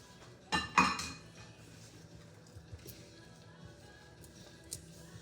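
A utensil stirs milk into a mixture in a bowl in a home kitchen, with two sharp clinks and clatters near the start, then softer occasional taps and scrapes at close range.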